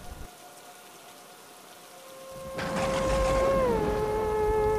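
Steady heavy rain hisses through a wide, even wash of sound that swells louder midway, while a low sustained tone hums beneath it and then drops slightly in pitch.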